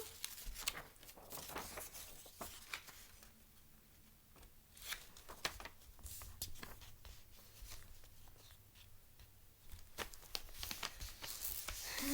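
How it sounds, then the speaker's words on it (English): Sheets of paper being folded by hand to make paper snowflakes, with soft crinkling, rustling and creasing sounds in irregular bursts, close by and fairly quiet, no talking. "I need to fold them. I need to fix my folding."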